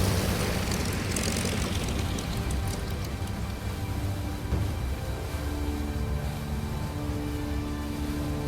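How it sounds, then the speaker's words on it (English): An aircraft lands on a carrier deck in the naval game Aircraft Carrier Survival, heard as a steady, droning propeller engine roar with a broad wash of noise that holds constant throughout. "Stand by to recover aircraft."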